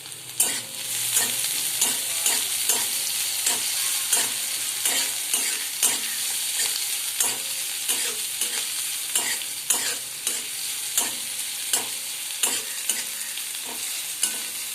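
Onion sizzles in a chilli tempering in a pan over a low flame, a steady close hiss broken by regular spatula stirs and scrapes about every second, with no talking.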